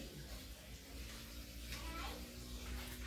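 Water runs steadily from a household tap before being shut off, a continuous close hiss under a child's and adults' voices talking in Tagalog.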